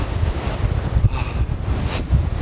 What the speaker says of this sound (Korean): 바람이 진짜 많이 부는 거예요 지금